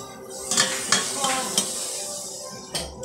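Chicken frying in oil gives a soft continuous sizzle, broken by a few clinks and scrapes of a utensil against a metal pan, close and fairly quiet with no talk.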